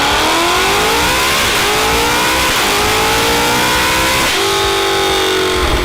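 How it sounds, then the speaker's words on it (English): A Shelby GT500 muscle car engine revs loudly and close up, rising and falling through several throttle blips with a sharp climb near the end, no talking. "Number 1. Shelby GT 500,"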